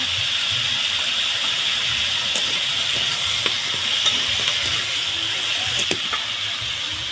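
Potatoes frying in a pan with salt and turmeric: a steady, close sizzle and hiss, broken by light scraping and clinking as they are stirred.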